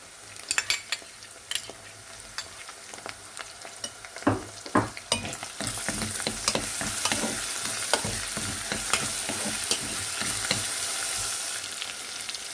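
Onions fry in a pan with tomato paste for a spinach dish. A spoon clinks and scrapes as the mixture is stirred, and a steady sizzle swells louder midway and keeps going up close.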